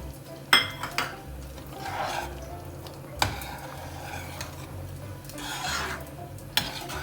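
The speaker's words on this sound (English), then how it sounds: "To this we'll add about 1 tablespoon of butter." Butter is added to simmering dal makhani, followed by a soft sizzle and several sharp spoon-on-pot knocks and scrapes as the lentils are stirred, spaced irregularly across the moment.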